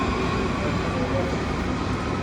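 Dense, steady rumbling ambience inside a Paris metro station under renovation, a continuous loud wash of train and platform noise.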